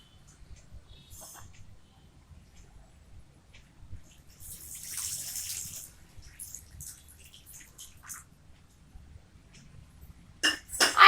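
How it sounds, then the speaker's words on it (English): Water poured onto a freshly planted jasmine plant in soil makes a soft splashing burst in the middle and a louder pour near the end, with quiet gaps and faint clinks between. "Now I am going to water this plant."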